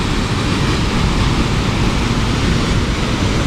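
Ladder Creek Falls near the powerhouse at Newhalem in North Cascades National Park roars as a loud, steady, close wash of falling water, with no other sounds standing out.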